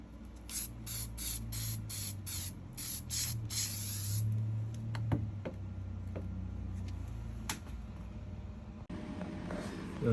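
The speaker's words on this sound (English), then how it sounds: "I spray a little bit." Short bursts from a spray can, about eight in a quick row, then one longer hiss onto a rusty metal panel during welding work on a 1983 Newell motorcoach. A steady low hum from the shop sits underneath.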